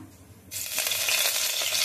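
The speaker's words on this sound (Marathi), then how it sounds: "तेल तापल्यानंतर त्यामध्ये मोहरी, कढीपत्ता," Mustard seeds and curry leaves hit hot oil in a pot, the quiet room suddenly erupting into a loud, crackling sizzle that holds steady to the end.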